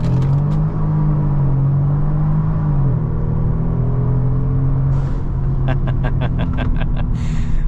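A tuned 450 hp 2023 Genesis G70 sedan accelerates, its engine droning loud and steady from inside the cabin. The pitch climbs and drops at a gear change, then a string of short sharp ticks follows near the end.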